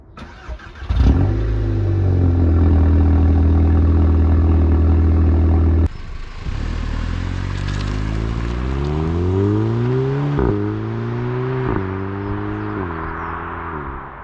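A second-generation Audi TT engine fires up and idles loudly, then revs through repeated rising and falling sweeps, with a few sharp pops and bangs cracking between the revs, close and alone.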